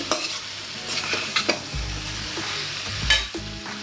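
Chicken chukka sizzles steadily in a pan while being stir-fried, the continuous frying hiss broken by repeated scraping strokes of a spatula, close and loud with no talking.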